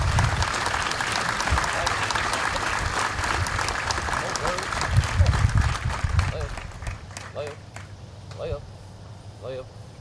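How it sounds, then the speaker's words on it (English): Crowd applause at a military graduation ceremony for awardees, dense clapping with low rumbling for several seconds, then fading into sparser claps and scattered voices in the open air. "Ladies and gentlemen, let's give our awardees a round of applause."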